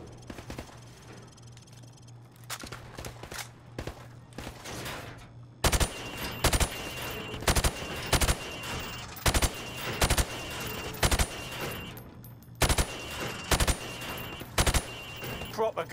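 Rifle fire at pop-up targets on a shooting range in Call of Duty: Modern Warfare Remastered, a few scattered early shots, then sharp single cracks in quick irregular bursts, loud and close, with no voices.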